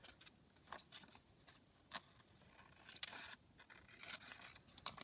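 Scissors snip around a cut-out shape in quick, quiet strokes, a series of short crisp cuts and paper rustles close by with no talk.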